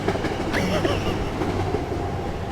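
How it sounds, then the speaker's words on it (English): A train rolls past near a roadside outdoor spot, a steady loud rumble of rail cars running throughout with faint clatter, no talking over it. "I'm gonna wait for this train to come by"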